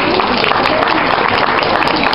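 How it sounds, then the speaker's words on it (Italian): A street audience at an outdoor cabaret show in Udine applauds a street performer, a steady dense wash of many hands clapping close by with no pause. "un bel applauso, signore, un bel applauso"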